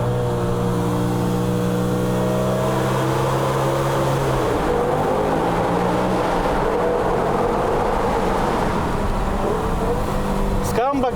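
A BMW M5 E60 engine drones steadily from inside the moving car, its tone climbing and shifting as the revs change, loud and continuous throughout.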